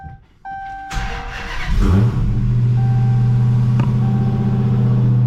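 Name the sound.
Dodge Hellcat car engine starting up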